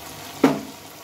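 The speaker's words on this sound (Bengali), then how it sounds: "এগুলো ঠিক একইভাবে ভেজে নেব" A short burst of sizzling as carrot snacks drop into hot frying oil, loud at first and quickly settling into a soft fading crackle.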